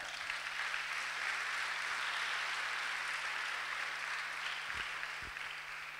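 Church congregation applauding during an evangelistic Sunday service, a steady dense wash of clapping that holds evenly for several seconds and tapers slightly near the end, with no talking over it.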